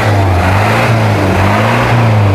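A custom black Chevrolet Blazer Raptor diesel engine revs loud and close, with a deep, throbbing low rumble that swells in a quick blip of throttle.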